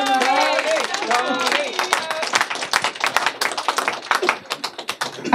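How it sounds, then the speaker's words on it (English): An audience at a political campaign announcement breaks into applause, a dense patter of clapping hands that starts under a speaker's voice and then continues alone, steady and fairly close, for several seconds. "We should give him a round of applause."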